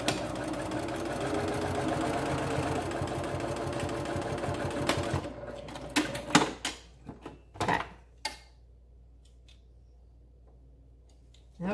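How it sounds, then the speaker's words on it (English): A sewing machine stitching through the layers of a reversible fabric face mask, a steady fast chatter for about five seconds, then a run of short separate bursts and clicks as it slows and stops. "So I'm gonna just sew along that area to make sure that I catch both sides."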